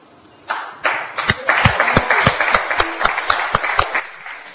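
An audience applauds at a Turkish folk music broadcast. The claps start sparse, then swell into a brisk, uneven patter of individual hand claps that stays fairly close.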